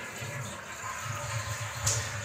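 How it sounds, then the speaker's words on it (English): A toilet flushes with a steady, moderately quiet rush of water, a continuous gushing swirl lasting a couple of seconds with a slight surge near the end. "This flush is for you."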